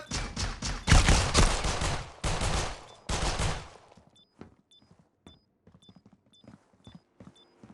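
Shooter video game gunfire, loud bursts of rapid automatic shots up front, then sparse single shots and faint clicks and thumps trailing off.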